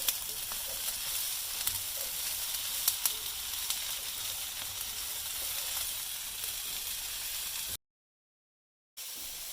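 Onions and carrots sizzle in a pan for a soup, a steady bright frying hiss with occasional small crackles, close and even, with a short silent gap near the end and no talk.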